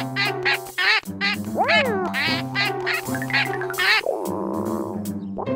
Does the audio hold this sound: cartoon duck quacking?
yes